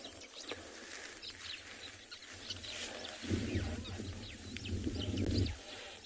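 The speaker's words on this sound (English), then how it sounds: "That little chattering sound you can hear in the background." Busy chattering of many sociable weavers in the background on a South African morning safari, with scattered chirps and a low rumble rising and falling beneath.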